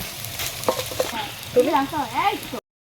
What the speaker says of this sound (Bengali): আমাদের উচ্ছেটা ভাজা হয়ে গেছে, এবার তুলে নেব।